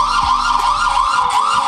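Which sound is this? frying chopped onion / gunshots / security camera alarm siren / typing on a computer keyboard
security camera alarm siren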